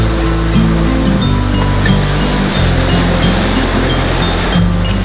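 Ocean surf washes steadily onto the shore at Hampton Beach on the New Hampshire seacoast, a continuous loud roar of breaking waves with a low rumbling undertone and no voices.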